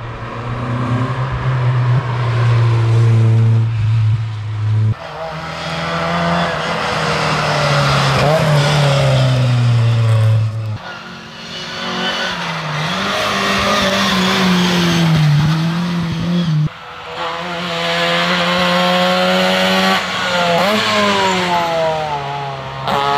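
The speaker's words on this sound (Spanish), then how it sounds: "A ver, el coche viene por aquí. Golf." A Golf rally car at the Rally Costa Brava blasts past close by, loud and rising through the gears with engine pitch swings, then a second roaring pass later on.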